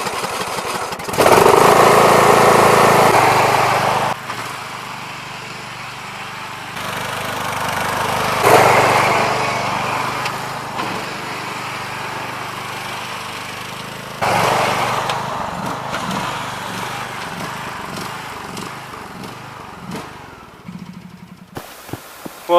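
A lawnmower engine fitted to a homemade snow machine runs loud and close, surging with throttle bursts and dropping back to a rough lower idle, then sputtering near the end.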